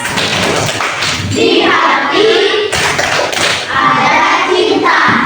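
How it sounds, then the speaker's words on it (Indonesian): Children clap out the rhythmic 'tepuk sukses' pattern in a classroom, sharp claps and thumps in bursts with chanting young voices between them. "Tepuk sukses."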